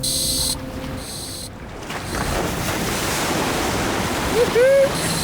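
Water churns and splashes around a Gibbs Aquada amphibious car driving into water, under steady wind buffeting, with a brief rising engine whine near the end.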